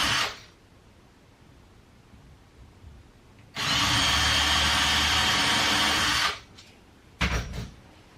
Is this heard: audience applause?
no